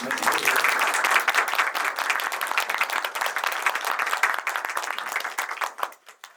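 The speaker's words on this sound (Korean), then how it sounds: "다시 한번 큰 박수로 맞아주시면" Sustained applause from a film screening audience in Korea welcoming actors, steady and loud, with dense clapping that tapers off near the end.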